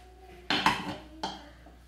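A cooking pot holding boiled potatoes is opened with two sharp metallic clanks of the lid, close and alone, each followed by a short ringing decay.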